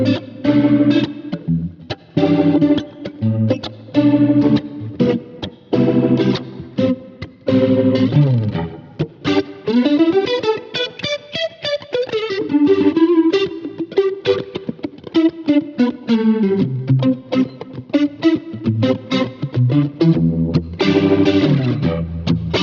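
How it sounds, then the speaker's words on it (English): An overdriven electric guitar through a Kemper profiler, with a warbling, swirling rotary-speaker vibrato, plays a melodic phrase with sustained notes and bends, loud and close. "a rotary speaker, vibrato kind of tone. We included a little bit of overdrive in front of the amp"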